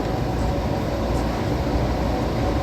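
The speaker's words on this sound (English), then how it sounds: "Please hold on. This train is departing." A train pulls away from a station, giving a steady loud rumbling roar with broadband rail noise that stays constant throughout and has no speech over it.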